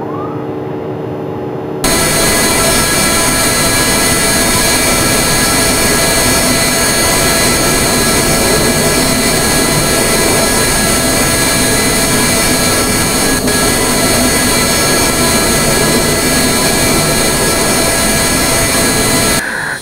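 Airliner jet engines roar steadily at full power while climbing after takeoff in a flight simulator game, a loud constant whine and rush with high tonal hum that starts abruptly and holds throughout.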